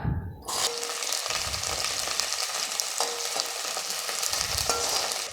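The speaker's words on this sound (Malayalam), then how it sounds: "ഇതിലേക്ക് നമ്മൾ അരിഞ്ഞു വെച്ചിരിക്കുന്ന ചെറിയ ഉള്ളി ചേർത്ത് കൊടുക്കാം." Chopped shallots drop into hot coconut oil for Kerala sambar, setting off a sudden loud, continuous sizzle with light stirring scrapes throughout.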